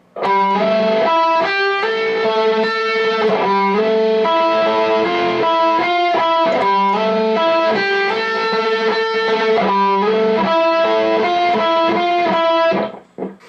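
A distorted electric guitar plays a slow, sustained riff with ringing notes, loud and steady throughout, then cuts off near the end.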